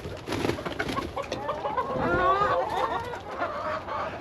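Chickens on a farm clucking and cooing close by in a steady run of short calls over a busy outdoor background, with no talking.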